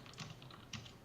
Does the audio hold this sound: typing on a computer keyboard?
yes